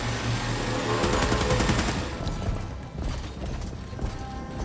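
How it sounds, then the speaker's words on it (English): Rapid PDC gunfire in The Expanse: Osiris Reborn, dense rattling bursts of automatic fire at moderate loudness. The firing is heaviest early on and continues less densely after. "Even their armor won't stand a chance against PDC fire"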